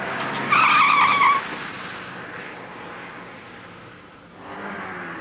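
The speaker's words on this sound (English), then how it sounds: "A white Montego flew past me, going at a crazy speed." A white Montego races past at high speed, its tyres giving a loud, brief squeal up close before the engine noise fades away into the distance.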